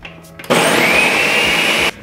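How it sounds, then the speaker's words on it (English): A countertop blender whirs at full speed, blending a frozen vodka slushie cocktail: a sudden loud, steady high whine lasting about a second and a half after a few light clicks, then cutting off sharply. "Slap your lid on, give her a good blend."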